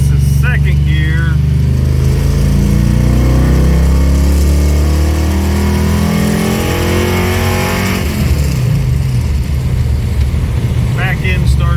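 An LT1-swapped G-body El Camino pulls hard in second gear, its V8 roar climbing steadily in pitch close up, with a voice talking over the engine near the start and again at the end.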